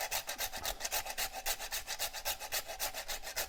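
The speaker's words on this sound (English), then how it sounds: "do some grinding with one of these cinnamon sticks" Cinnamon stick rubbed briskly across a small grater fitted with a cover to catch the shavings, giving a steady run of rapid, close raspy scrapes in a regular back-and-forth rhythm with no talk.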